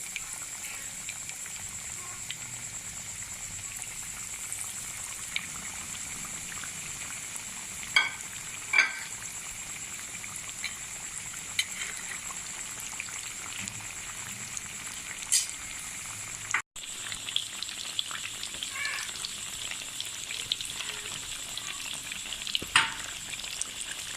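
Zinger burger chicken deep frying in oil in a kadai gives a long, steady bubbling sizzle, with occasional light clicks and taps from the pan, and no talking.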